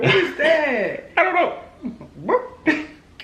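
A phone ringtone that imitates a dog barking sounds in a few short bark-like bursts with whimpering pitch sweeps, close and loud, while people talk and react over it.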